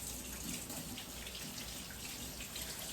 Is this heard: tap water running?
yes